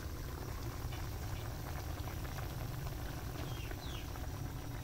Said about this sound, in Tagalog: Yan na, kumukulo na.